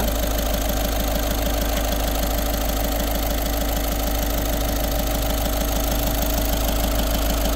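A 2016 Volkswagen Vento Highline diesel idles steadily up close, with a constant low hum and a fast, even clatter and no voices.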